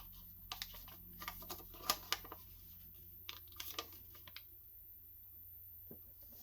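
Paper crinkles and rustles as a sheet is folded up and creased by hand, a series of quiet, close crackles and taps coming in small bursts, no voices.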